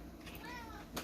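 A house cat lets out a single short, faint meow indoors, brief and rising, over a low room hum.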